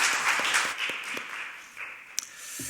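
A congregation at a Sunday worship service gives a short burst of applause that fades fairly quickly. Scattered claps and a few sharp knocks follow in a reverberant hall.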